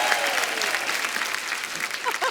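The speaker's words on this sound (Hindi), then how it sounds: "एक बार कपिल के लिए तालियां" A studio audience on a Hindi TV comedy show claps loudly and continuously, a dense sustained wash with brief vocal sounds near the end.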